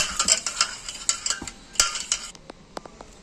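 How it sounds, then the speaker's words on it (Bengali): Red lentils being washed with water in a large bowl, giving a run of close, light clinks and splashy swishes with a few sharper taps near the end, no talking. "ভালো করে ডালটাকে প্রথমে ধুয়ে নেব"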